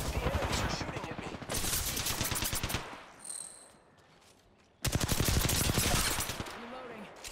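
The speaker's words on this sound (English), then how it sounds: "The enemies are shooting at me." Rapid gunfire from enemies in a video game shootout, dense bursts of shots at moderate loudness, separated by a brief lull before another sustained volley.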